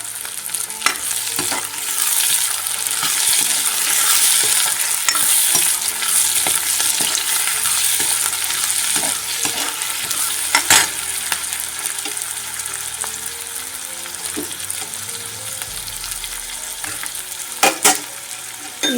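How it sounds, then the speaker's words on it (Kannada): Tomatoes fry in oil in a pan for chicken liver masala, a steady close crackling sizzle with occasional louder pops and stirring scrapes, continuous with no speech. "ಇವಾಗ ಟೊಮೊಟೊ ಇದರಲ್ಲೇ ಆಯಿಲಲ್ಲೇ ಫ್ರೈ ಮಾಡ್ಕೊಳ್ಳೋಣ"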